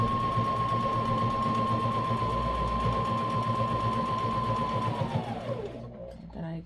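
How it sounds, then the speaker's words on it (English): A sewing machine stitches a wool diaper cover in one steady, close, continuous whir with a strong motor hum, then winds down and stops near the end. "tucked in nicely and caught under the sewing machine."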